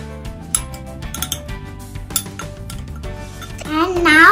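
A spoon clinks and scrapes against a bowl while semolina dhokla batter with curd and oil gets stirred. The taps come irregularly through a bed of background music, and the sound grows louder near the end.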